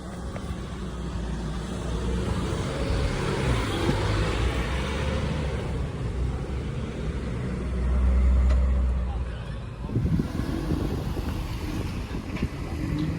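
Cars pass by on a village street in Downham, England, a rumbling engine swelling and fading in the middle distance amid outdoor ambience, with people talking faintly.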